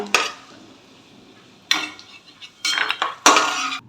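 Crisp cashews and almonds, lightly fried in ghee, are lifted from a pan onto a plate with a metal spoon, making four separate bursts of close scraping and clinking with quiet pauses between them.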